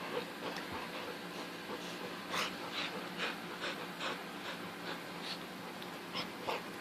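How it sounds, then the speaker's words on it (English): A dog with his ball pants in quick, rhythmic breathy bursts close by, with faint whimpering mixed in and no talking. "we got OCD dog with his ball."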